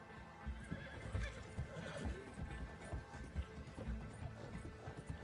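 A horse in Red Dead Redemption II neighs and whinnies several times over clip-clopping hooves, fairly faint, with no talk.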